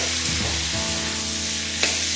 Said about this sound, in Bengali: সবজিগুলোর সঙ্গে সঙ্গে কাঁঠালের দানাটাও সুন্দর করে ভাজা হয়ে যাবে।